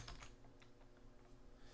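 Keys on a computer keyboard are tapped in a short, uneven burst of soft clicks, quiet and close, with no voices.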